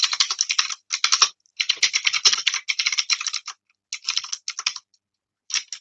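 Rapid typing on a computer keyboard while writing code, in dense bursts of close clicking keystrokes separated by short pauses, with no voices.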